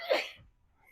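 A single sharp sneeze bursts out close and fairly loud near a concrete slab being poured and mixed, then quickly fades to near silence.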